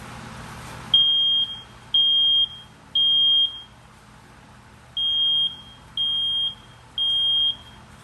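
Six steady high-pitched electronic beeps from a smoke alarm test, each about half a second, in two groups of three with a short pause between, loud and alone.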